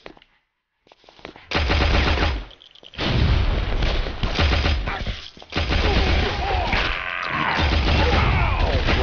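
Machine gun fire in the video game Guns, Gore and Cannoli, loud sustained bursts that break off briefly and resume, heavy and close with crashing impacts.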